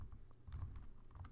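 Quiet, close keystrokes tap out on a computer keyboard in a steady rapid stream of soft clicks over a low background hum.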